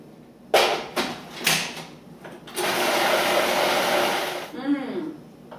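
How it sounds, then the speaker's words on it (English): A blender purees soup until very fine, a loud steady whirring drone lasting a few seconds, preceded by short bursts and followed by a brief sloshing wind-down. "And we'll puree it until it's very fine."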